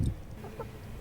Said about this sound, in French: c'est des poules